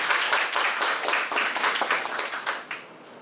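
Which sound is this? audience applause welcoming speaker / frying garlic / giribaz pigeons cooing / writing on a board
audience applause welcoming speaker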